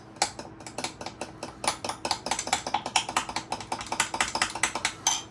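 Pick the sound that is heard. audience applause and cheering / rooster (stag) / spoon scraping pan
spoon scraping pan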